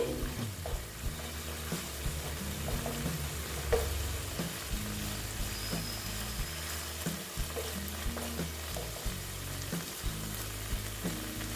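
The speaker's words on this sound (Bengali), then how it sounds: "ভেজে নিচ্ছি" Pointed gourd (potol) frying in oil in a pan for a fennel-spiced mouri potol, giving a steady, close sizzle with occasional stirring scrapes over continuous background music.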